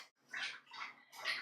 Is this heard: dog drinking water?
yes